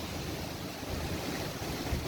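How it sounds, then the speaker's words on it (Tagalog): Strong wind roars steadily across a farm under an overcast sky, a loud, continuous, broadband rush buffeting the microphone with no talking. "Malakas yung hangin dito sa amin guys."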